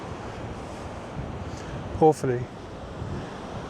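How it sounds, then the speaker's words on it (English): Atlantic surf breaks against the rocky shore at Kerry Head on Ireland's south-west coast, a steady rushing wash mixed with wind buffeting the microphone, and a brief spoken word partway through. "you could spend ages here just with the sound of the ocean going against the"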